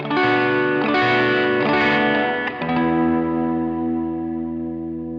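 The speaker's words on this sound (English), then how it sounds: "So this is a very wide soaring reverb" ALABS Cetus pedal on its cloud setting turns guitar chords into a wide, soaring reverb, layered tones swelling and then ringing out in a long sustained wash that slowly fades, with no talking.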